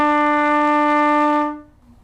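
Trumpet sounding a single sustained E with the first and second valves pressed, a steady, bright brassy tone held for about a second and a half before it cuts off, played alone and close.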